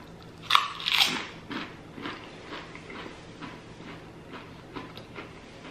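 An air-fried Firehouse Subs New York Steamer sandwich is bitten into twice with loud crunches up close, followed by quieter chewing and faint crackles.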